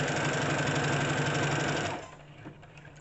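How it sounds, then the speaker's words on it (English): A sewing machine runs steadily and loudly while sewing a hem being shortened by six inches, then stops abruptly, leaving faint handling noises in a quiet room. "So I'm just going to sew till I get to the seam"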